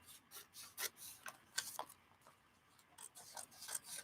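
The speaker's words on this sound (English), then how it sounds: "Let me trim off the bottom down here a little bit." Paper being trimmed for a collage art journal page, a series of soft, close rasping cuts in uneven bursts, quiet and alone without talk.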